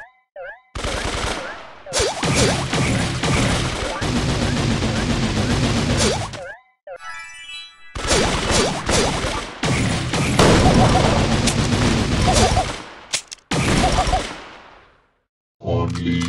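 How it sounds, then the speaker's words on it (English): Colt, a brawler in the mobile game Brawl Stars, fires rapid bursts of loud, close gunshots in rattling volleys, broken by a few brief pauses and interspersed with game effects. "Check out my gun!"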